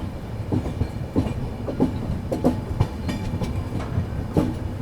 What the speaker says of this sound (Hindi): फाइनली अभी अपनी ट्रेन निकल रही है रायरू रेलवे स्टेशन से